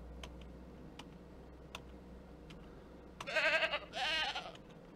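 Two goats in the farming video game Ranch Simulator bleat loudly and close by in quick succession, over a quiet ticking and low ambient hum.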